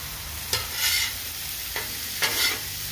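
Meat fries in oil in a pan, a steady sizzle broken by three scraping stirs at roughly even intervals, close up with no voices.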